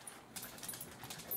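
Faint dog whimpers and a short yip or two, close by in a quiet room, brief and intermittent.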